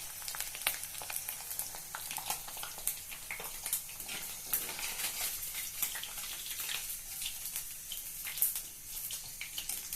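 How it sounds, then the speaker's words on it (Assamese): Steady, close sizzling of potatoes frying in hot oil, with crackling pops throughout and no voices. "এতিয়া মই আলুখিনি ভাজিম।"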